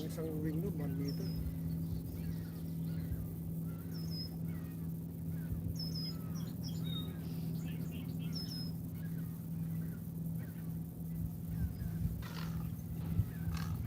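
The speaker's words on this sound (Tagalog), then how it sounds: "Yung maingay kanina, kuya. Crane yun." Several short, shrill crane calls ring out at intervals over a steady low rumble of wind or engine noise at Tommy Thompson Park, Toronto; the calls are moderately distant.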